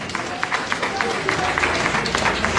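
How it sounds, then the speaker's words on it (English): Audience at a Nigerian APC political gathering clapping in a steady, rhythmic pattern, with distinct claps standing out over a continuous crowd murmur and some voices. "now let me clap for them first."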